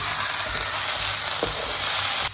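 Chili powder, salt and onion paste stirred together in a hot pan make a steady, loud, close sizzle throughout, with a brief scrape of the utensil partway through.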